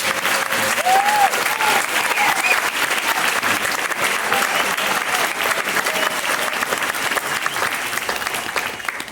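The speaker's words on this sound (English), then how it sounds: "Just take a big clap there." Audience applause fills the room after a young band's performance, steady, dense clapping sustained throughout with a faint whistle or cheer rising briefly above it.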